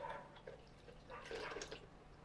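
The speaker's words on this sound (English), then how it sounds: "I'm gonna put here and gonna drain it." Water drains from freshly rinsed sushi rice, a soft dripping trickle that swells into a brief louder splashing rush partway through, then eases off, close by with no talking.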